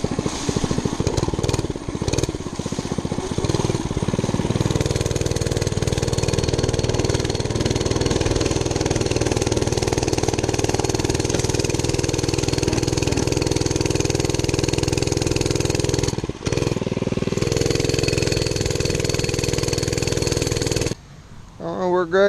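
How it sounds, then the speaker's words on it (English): A Monster Moto 105cc mini bike engine runs close by with a steady, buzzing mid-pitched drone, briefly dipping around two short pauses before cutting off near the end; a voice talks over it at times. "So I think I'll jump on a mini bike and we'll go top speed run it"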